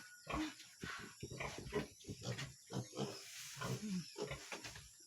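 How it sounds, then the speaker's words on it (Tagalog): A mother pig (sow) on a farm near her 20-day-old piglets, giving repeated close grunts and snorts in an irregular run of short bursts, with no talking over them. "Ayan yung ating mama pig."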